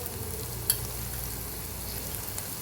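Cluster beans frying in hot oil, a steady close sizzle with faint stirring, one short sharp clink near the start, no voices.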